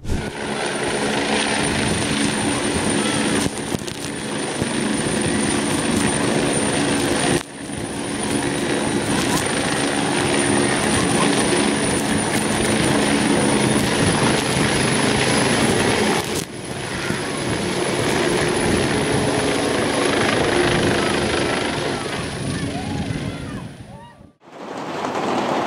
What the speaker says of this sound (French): des hélicoptères de lutte anti-incendie ont utilisé des piscines privées pour s'approvisionner en eau